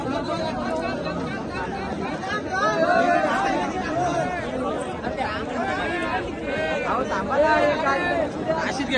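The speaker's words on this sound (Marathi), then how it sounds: "खाली एवढी गर्दी झालेली आहे, भरपूर गर्दी" Dense babble of a large crowd gathered at a bullock race ground, many voices talking and calling at once, steady and close throughout.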